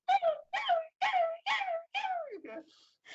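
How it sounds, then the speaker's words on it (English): A bird chick gives a series of five or six squeaky, whining calls in quick rhythm, each rising then falling like a squeezed dog's toy, close and clear. "the chick is sounding like this weird cross between like a robin with laryngitis"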